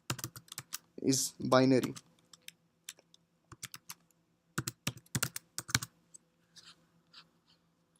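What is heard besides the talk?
typing on a computer keyboard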